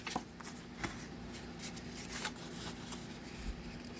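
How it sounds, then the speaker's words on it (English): Folded cardstock rubbed and creased with a bone folder, a fairly faint, continuous papery scraping with repeated light strokes and small ticks. "Give it a good going over with a bone folder really well."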